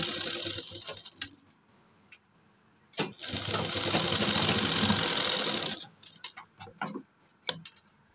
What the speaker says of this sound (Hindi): इसको इस तरीके से मिला के और सिलाई लगा देंगे आधी आधी करके